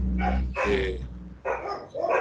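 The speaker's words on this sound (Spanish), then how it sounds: "se escuchan mucho los perros" Several dogs bark in bursts somewhere outside, loud and fairly close, two main clusters of barking separated by a short pause, over low background hum.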